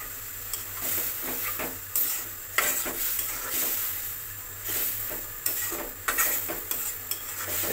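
Chili and turmeric powder mixed into a water paste sizzles in a pan with onions fried until reddish, for a Bengali bata fish curry: a steady frying hiss runs throughout, broken by the scrape and clink of stirring against the pan.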